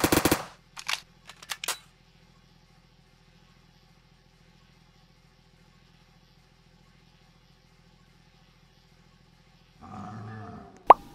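A Honey Badger .300 AAC Blackout rifle in Roblox Project Lazarus: a quick series of short sharp firing and handling clicks at the start, a long near-silent hum, then a mechanical rattle and a final loud snap.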